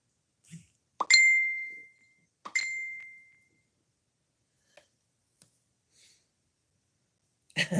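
A phone's text message notification gives two short, bright chiming dings about a second and a half apart, each ringing out briefly in an otherwise quiet room.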